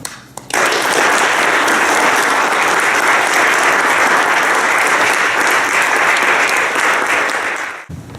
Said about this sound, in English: Can we have another round of applause for this?